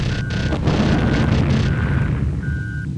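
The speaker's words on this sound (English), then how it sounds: "We've got some cannon fire onto it." In the Eurofighter EF2000 flight combat game, a jet's cannon fires on a MiG-27 Flogger as a dense, rumbling burst over constant engine noise, with four short electronic warning tones beeping in a regular pattern.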